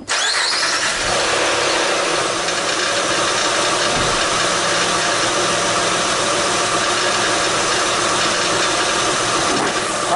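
A 2008 Honda Pilot engine cranks and catches, then settles into a steady, loud idle that runs unbroken for about ten seconds, recorded close to the vehicle.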